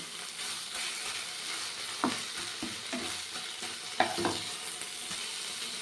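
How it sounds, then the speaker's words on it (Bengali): Taro leaves with coconut are stir-fried in a pan: a steady hiss of sizzling is broken by a few sharp scrapes and knocks of the spatula, heard up close without speech. "এবারে কিন্তু একটু বেশ ভালো করে ভাজতে হবে যাতে এর মধ্যে জল জলে ভাব না থাকে"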